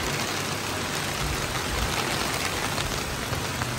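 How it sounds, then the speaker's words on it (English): Steady rain pours down over a cemetery in Latvia in July, a dense, even hiss of drops hitting the ground, close and constant with no talking. "we got caught in the rain"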